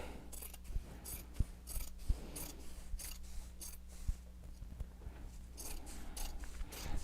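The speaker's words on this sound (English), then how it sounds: "I'm going to trim down the selvage on this side" Scissors trimming the selvage off a length of fabric, a steady run of close, crisp snipping and rasping cuts repeating throughout.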